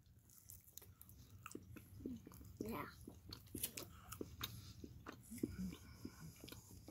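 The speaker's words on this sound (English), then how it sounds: "Oh yeah, I'll take a bite now too." Fruitcake being chewed, soft close crunching and moist mouth sounds in an irregular rhythm, with quiet whispery breaths and brief speech between bites.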